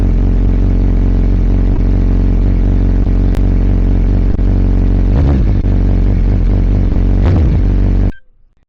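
Suzuki Hayabusa motorcycle engine running close and loud, a steady deep idle with a couple of brief throttle blips before it cuts off abruptly at the end.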